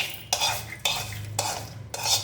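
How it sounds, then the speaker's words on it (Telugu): Spoon stirring a fried tempering into grated carrot pickle, four distinct scraping strokes against the bowl at a steady pace, close and clear with no voices. "ఇప్పుడు ఇందులో ఈ పోపు వేసేస్తాను"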